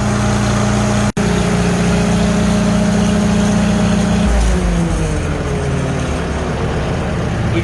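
A Farmall H tractor engine, its carburetor just adjusted, runs at a close and loud idle, a steady low rumble with a brief dropout early on and a slight drop in pitch partway through.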